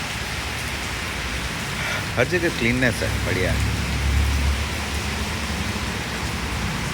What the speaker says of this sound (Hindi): बट बारिश हो गया